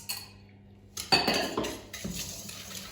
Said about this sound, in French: Avec mes œufs, je vais mélanger mes 300 g de farine.